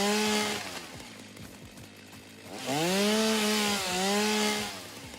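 Chainsaw revving in the video game Satisfactory, a loud close engine whine that rises and falls in pitch through two strong bursts, idling more quietly between them, with no talking.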